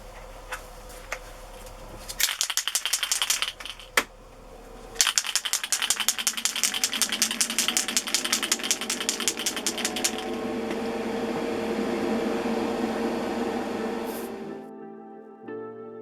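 An aerosol primer can rattles in two fast, loud bursts of shaking, then sprays a model with a long, steady hiss that stops abruptly near the end.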